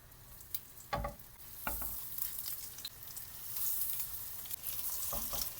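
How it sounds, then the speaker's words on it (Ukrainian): Steady hiss of crab-stick cakes frying in hot vegetable oil, broken by a few sharp thuds and clinks of utensils near a pan, no one speaking. "І на рослинній олії викладаємо смажити котлетки."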